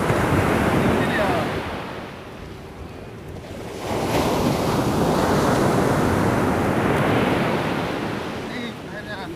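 Sea waves wash onto the beach at Klatak in Tulungagung, East Java, as a loud, steady roar with wind buffeting the microphone, easing slightly midway before swelling again.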